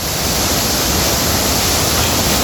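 A waterfall in Agusan del Sur, Mindanao, roars as a steady, dense rush of falling water close by, with no voices.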